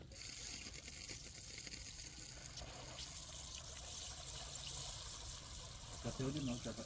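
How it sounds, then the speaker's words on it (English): Water trickles and splashes steadily from small holes in a bottle watering plants, a soft continuous dribble with a brief louder gurgle near the end. "Water will flow through the bottle and exit through the small holes, creating a shower-like spray."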